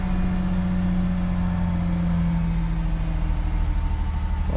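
A 2000 Ford Ranger XLT Supercab 4x4 with about 58,000 miles runs at a steady idle. Its engine gives a loud, constant low hum and rumble that stays close and even throughout, with no talking.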